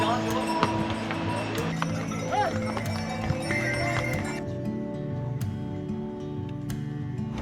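Horses' hooves clip-clop along the Kedarnath trek trail beside a river at the pony point, with an occasional whinny, amid busy outdoor noise and voices nearby.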